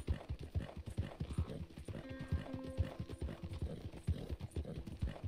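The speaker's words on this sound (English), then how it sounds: "I got the best horse in all of Red Dead." Horse hooves clip-clop in a steady walking rhythm in Red Dead Redemption 2, close and moderately loud, with a short whinny in the middle and no talking.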